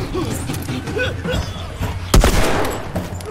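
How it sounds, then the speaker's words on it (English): Gunfire in the video game The Last of Us: one sharp, loud shot stands out midway against a low, busy game background, with faint voices at times. "Shoot and kill."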